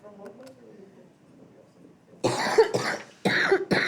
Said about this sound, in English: I literally hit the record button and then just coughed.